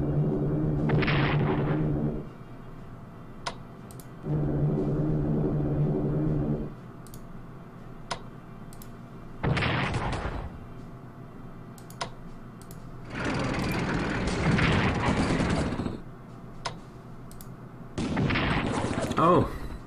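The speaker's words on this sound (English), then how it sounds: "Just bomb the Hungarians." Bombing and artillery effects in the Strategic Command World War II strategy game come as several separate bursts of booming, crackling blasts, with a voice speaking nearby.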